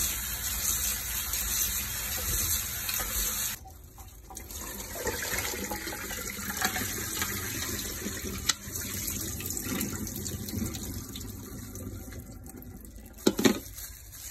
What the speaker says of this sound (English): Now pour the noodles into the strainer.